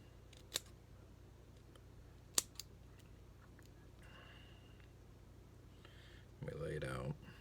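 Scissors snip a strip of cotton wick for a 3.5 mm coil on a Voltrove Mini V2 vape build, giving a few sharp, quiet clicks spaced apart, with a rustle of handling near the end.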